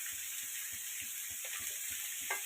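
Sliced onions with salt sautéing in a pan for chicken biryani, a steady close sizzle with soft stirring strokes at a regular, quick pace.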